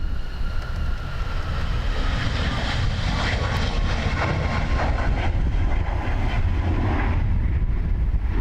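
Dubai Air Wing Boeing 747 taking off at Dublin Airport, a loud continuous roar of jet engines at full power with deep rumble and hissing, sustained throughout and heard close without voices.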